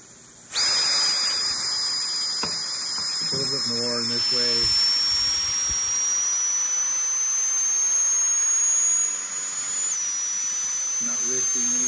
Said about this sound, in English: that is the air coming out of my bottle